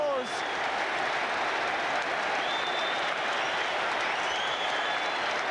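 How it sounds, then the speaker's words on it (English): A large football stadium crowd applauds and cheers, a broad wash of clapping and roar sustained throughout, with faint whistles. "And Branca takes the applause."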